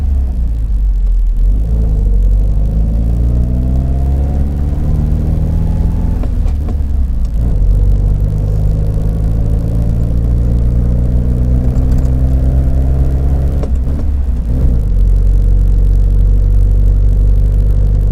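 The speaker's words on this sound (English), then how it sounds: "we're going to head off and go for a little drive" A pre-war Standard Nine car pulls away and drives off, its engine rumbling loudly up through the gears in several rising sweeps with pauses between shifts, heard from inside with no talk.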